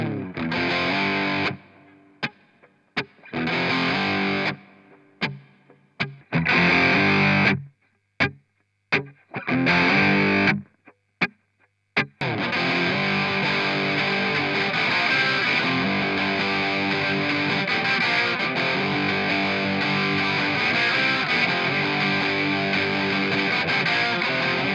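Electric guitar played through a Marshall BB2 distortion pedal, switched on: a few loud, choppy distorted stabs with gaps, then a steady sustained saturated chordal wall ringing continuously to the end, with no talk.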